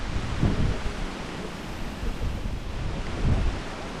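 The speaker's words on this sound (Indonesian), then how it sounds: "Anginnya kencang sekali." Strong wind gusts buffet the microphone at mountain temple ruins on Gunung Penanggungan, a steady low roar with two heavier rumbling gusts near the start and end.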